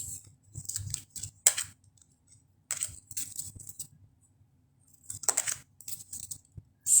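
Tarot cards shuffled by hand in short bursts of crisp riffling and flicking card slaps, close and moderately loud, separated by quiet pauses.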